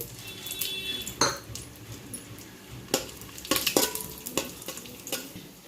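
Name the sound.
dry fruits frying in hot ghee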